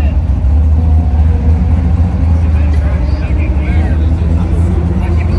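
A ZL1500-powered drag car with a 10-speed transmission races down the strip in the 140 class, a loud steady low engine roar with dense rumble throughout, no distinct shift breaks, close and dominant.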